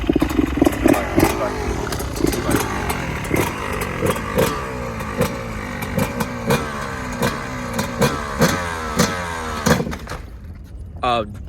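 A dirt bike engine on a test drive, close and loud, revving repeatedly in rising and falling bursts with rhythmic throttle blips before it drops away near the end.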